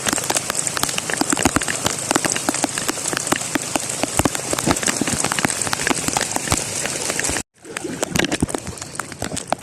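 Heavy rain pours down steadily during a fishing trip, a dense, loud hiss of drops striking surfaces with close pattering, briefly cut off near the end before resuming, while a dove coos faintly in the background.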